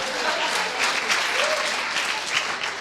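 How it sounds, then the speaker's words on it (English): A conference audience at a TESOL teaching event gives a round of applause, a dense, even roar of many hands clapping that fills the whole stretch at steady loudness. "A little round of applause for her as well."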